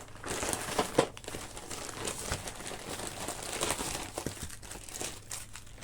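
Packaging paper crinkles and crumples continuously while a parcel of small leather and faux-leather accessories is unboxed, with denser rustling bursts near the start and steady rustle throughout, close and moderately loud, no talking.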